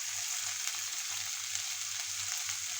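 Ridge gourd curry sautéing in hot oil in a pan, a steady close hiss and sizzle with a faint regular low hum beneath.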